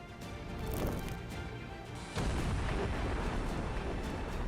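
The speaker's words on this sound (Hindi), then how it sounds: "तोपों से खार्कोव क्षेत्र के कुपियांस्क इलाके को निशाना बनाया जा रहा है।" Two deep, distant artillery cannon blasts in the Russia-Ukraine war, targeting the Kupiansk area of Kharkiv region, the second heavier, each followed by a long rumbling roll that lingers in the background.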